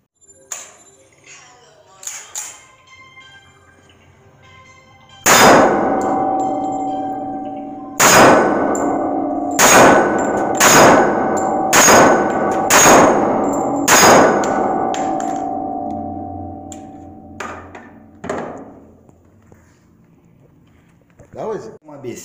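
Seven loud pistol shots crack at uneven intervals, each leaving a long ringing echo, with a few quieter sounds before and after.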